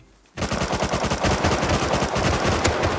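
Rapid automatic gunfire from the survival game Rust bursts in abruptly after a brief quiet moment, then rattles on loud and close in a dense, steady stream of shots.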